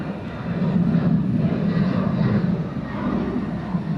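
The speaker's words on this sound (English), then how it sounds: "Oh, do we have a takeoff there?" At Atlanta airport, an airplane's engines give a steady, heavy roar with a deep rumble that holds fairly constant throughout, heard at a distance.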